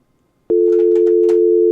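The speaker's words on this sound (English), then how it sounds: "We have dial tone." A steady telephone dial tone starts abruptly after a short silence and holds continuously, loud and close, with brief faint sounds over it.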